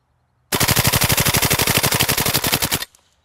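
WE ModK 16 blowback airsoft rifle firing on full auto: a loud, rapid, evenly spaced string of about two dozen shots lasting a little over two seconds, then stopping abruptly.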